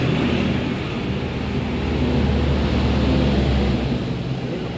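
A Suzuki Raider 150 motorcycle with a sputtering, backfiring fault idles in a steady, loud engine drone that holds evenly throughout, with no voices.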